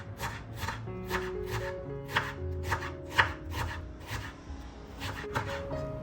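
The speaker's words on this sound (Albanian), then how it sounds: "të cilat I presim imët." Two onions are finely chopped with a knife on a board, giving a steady run of crisp, evenly spaced chops close up over a low background hum, with no talk.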